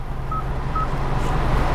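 Two short, identical electronic touchscreen beeps sound in quick succession over a steady low engine hum inside a 2022 Hyundai Tucson.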